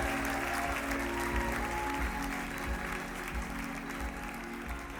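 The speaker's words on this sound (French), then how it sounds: "On peut les applaudir bien fort." Audience applause at a talk, fairly faint and distant, a soft steady patter of clapping over a low hum in the hall.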